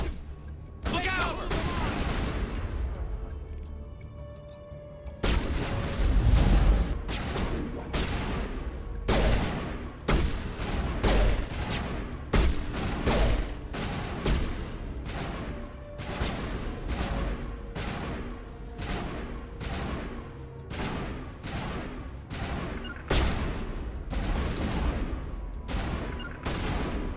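Rapid video-game gunfire from Mass Effect Legendary Edition, dense bursts of sharp shots and booms repeating steadily across the clip, loud and close, with occasional voices under the firing.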